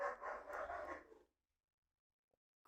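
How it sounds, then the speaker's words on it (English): Dogs fighting, a burst of rough barking and snarling for about a second close by, then near silence apart from a faint click. "It sounded like the dog they're fighting."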